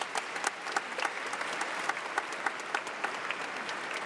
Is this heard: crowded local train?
no